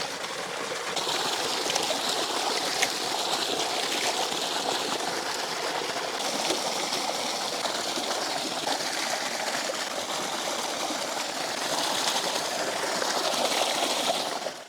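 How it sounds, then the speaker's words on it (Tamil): Boneless fish pieces are washed in water, a steady close splashing and trickling that runs evenly for the whole stretch with no talk over it. "இப்போ நல்லா கழுவி எடுத்துடலாம்."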